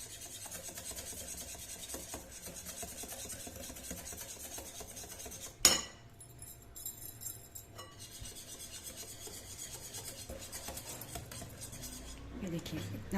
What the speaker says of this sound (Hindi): अब मैं विस्क से अच्छी तरह से इसको मिक्स कर रही हूँ।